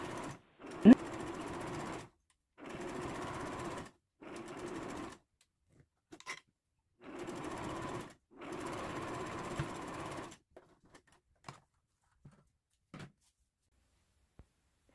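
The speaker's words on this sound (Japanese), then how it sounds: "ポケット布を表に返してファスナー脇をステッチで押さえておきます。" A sewing machine stitches beside a zipper on a fabric pouch in four steady bursts of close, whirring running separated by short pauses, followed by a few light clicks and taps.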